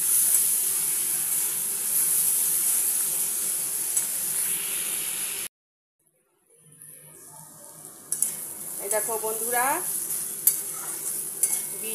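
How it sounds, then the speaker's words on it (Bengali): Beetroot frying in a pan, sizzling steadily while being stirred with scraping utensil sounds; a brief silence, then stirring and frying resume as a person speaks. "বিট ভাজাটা আমার প্রায় হয়ে এসেছে"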